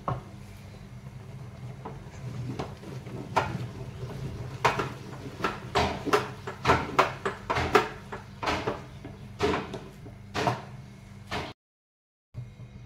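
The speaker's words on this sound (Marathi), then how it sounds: "आता आपण पीठ मिक्स करून घेऊयात याच्यामध्ये।" Finger millet flour being mixed into boiling water in a pot for papad dough, giving repeated close knocks and scrapes of a utensil in an uneven rhythm that grows busier midway before a brief silence at the end.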